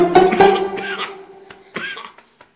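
A man coughs in a few harsh bursts at close range, with a short throat-clearing sound near the end and no talk over it.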